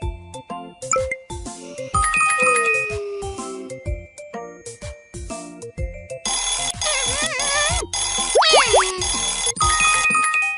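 An alarm chimes in a kids' puppy pet care game, with repeated bright bell-like ringing tones and rapid electronic jingles layered over playful game music.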